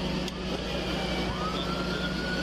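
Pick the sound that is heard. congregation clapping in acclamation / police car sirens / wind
police car sirens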